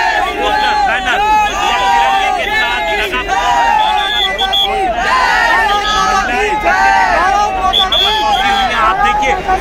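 Crowd of protesters gathering at Mandi House in Delhi, a dense, steady babble of many voices with shouts and whoops rising throughout, close and loud.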